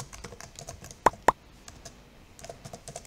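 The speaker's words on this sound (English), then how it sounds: "What are you typing?" Keys clatter on a computer keyboard during an online Minecraft Bed Wars match: quick, uneven close taps with two sharper, louder strikes near the middle and lighter pecking throughout.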